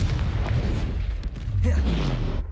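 Spell impacts in a Hogwarts wizarding video game, a dense run of booming blasts and bursts layered over one another, loud and close throughout, with no clear gaps between them.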